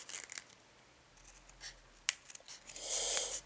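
Scissors snip and cut through the thick paper packaging of a Pokémon card booster pack, close and quiet, with crinkling and rustling of the wrapper between a few sharp cuts.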